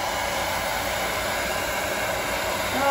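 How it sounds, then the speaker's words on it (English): A hair dryer on hot setting blows steadily and loudly across a wet acrylic pour painting, a continuous close whooshing drone with no break. "we are going to let it settle and hit it with the blow dryer"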